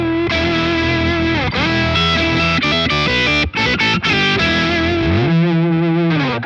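A heavily distorted electric guitar through a BOSS Polyshifter pedal, with a deep octave-down layer beneath the dry tone, playing loud sustained chords and quick note changes without pause.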